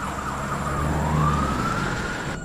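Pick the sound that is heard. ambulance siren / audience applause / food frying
ambulance siren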